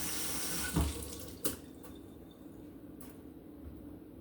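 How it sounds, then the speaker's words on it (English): A kitchen tap runs steadily as a soapy cutting board is rinsed beneath it, with a couple of louder splashes and knocks early on, then continuous hissing water flow close by with no talking. "This guy's got some soap on it from what we were just using, so we'll rinse it off."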